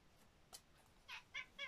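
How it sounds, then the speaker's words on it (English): A cat meows indoors, giving several short, faint calls. One call comes early, then three more in quick succession near the end, all heard alone without talk. "Go away, cat."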